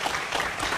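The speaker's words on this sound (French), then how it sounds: "On va l'applaudir très fort, s'il vous plaît." Crowd applause for a performer at a live event in Côte d'Ivoire, a dense, steady burst of clapping lasting under a second with no speech over it.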